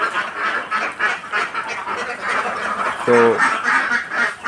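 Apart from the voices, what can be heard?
ducks quacking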